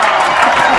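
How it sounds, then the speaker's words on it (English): A brief, loud wash of audience clapping and cheering from a crowd aboard the Royal Caribbean cruise ship Majesty of the Seas, filling the whole short moment. "Big round of applause to the great partner, ladies and gentlemen."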